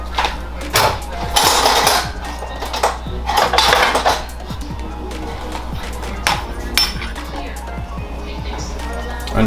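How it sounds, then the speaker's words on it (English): Onions tossed into a pan of mixed canola, olive and grapeseed oil for a vegan quinoa stir fry: bursts of hissing sizzle with clanks of utensils against the pan, loud and close, under intermittent talk. "And we are putting in the onions right now."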